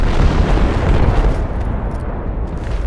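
A loud, sustained rumbling blast with a deep low-end roar that slowly fades, an air strike explosion echoing across the battlefield in the game Project Reality.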